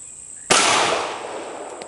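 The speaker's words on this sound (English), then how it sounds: "Let's shoot this pink canister over here, just see how it'll cycle" A single sharp pistol shot from an ATI M1911 .45 fired at a pink canister outdoors, with a sudden loud crack after a brief quiet start and a long fading echo tail.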